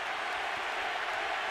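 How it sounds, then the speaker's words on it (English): A big arena crowd at a boxing match roars and chants, a dense continuous wash of many voices at a steady, fairly distant level. "And the crowd picks up the chant."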